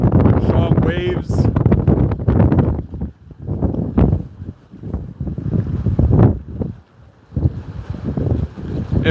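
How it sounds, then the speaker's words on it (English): Strong storm-surge waves and gusty wind on the sound side during a tropical storm, a continuous roaring wash with heavy wind buffeting the microphone and rising surges throughout. "here's the sound side, strong waves"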